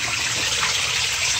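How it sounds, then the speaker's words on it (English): Water runs steadily through a garden pond, a close, constant rushing and gurgling wash with no pauses. "The water's flowing faster in here."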